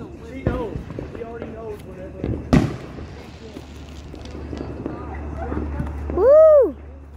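Fourth of July fireworks pop and crack a few times, with one sharp bang near the middle, amid people talking and a rising whistle near the end.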